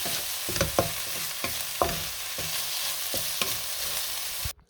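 Sautéed sardines with egg, onion and garlic being stirred in a pan, a steady close sizzle punctuated by repeated spatula scrapes and taps at an uneven rhythm.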